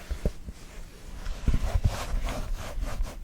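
A big, soft folder is rubbed and handled up close, making a continuous scratchy, rasping friction sound with uneven strokes and no voices.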